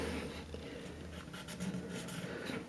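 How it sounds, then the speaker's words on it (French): A pencil drawing a horizontal marking line during a toilet installation, a soft continuous scratching stroke close by, fairly quiet with slight rubbing variation. "on fait un trait horizontal"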